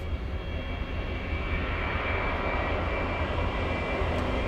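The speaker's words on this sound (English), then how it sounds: "Let's go for the takeoff. We have Sun Express 737." A SunExpress Boeing 737 jet taking off at Munich airport, a loud continuous engine roar with a steady high whine, sustained and unbroken with no voices.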